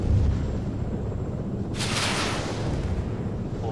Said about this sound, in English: we got the 70 millimeter high explosive ammo here, and let's try and shoot this thing